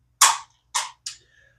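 VZ 61 Skorpion firing three sharp, separate shots outdoors, each a loud crack with a short decay, spaced unevenly about half a second apart.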